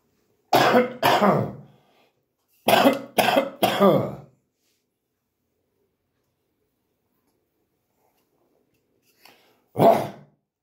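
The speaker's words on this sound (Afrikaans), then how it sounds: "ek gaan net hoes" Several sharp coughs come in bursts: two, then a quick cluster of three, and after a long silence one more, all close and loud.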